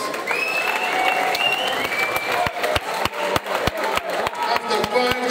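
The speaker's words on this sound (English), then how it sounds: "round of applause for both fighters." Crowd at an Elite FC MMA event applauding both fighters after a five-round championship bout, a loud, continuous wash of clapping and cheering with sharp thumps and whistles mixed through it.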